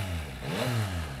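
A brief exhaust rev from a 2021 Yamaha MT-09 SP motorcycle, the engine note rising and then falling back, loud and close.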